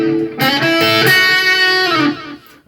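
A short electric guitar lick starting on a root A, with a few quick picked notes followed by a sustained singing bend, loud and close with overdriven tone, ending abruptly.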